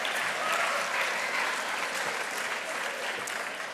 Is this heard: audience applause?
yes